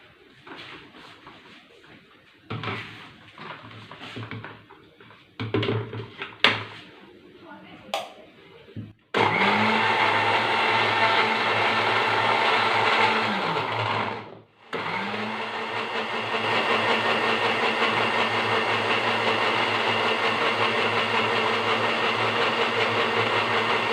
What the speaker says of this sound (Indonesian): Terus di blender.